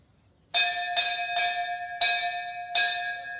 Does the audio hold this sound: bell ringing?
yes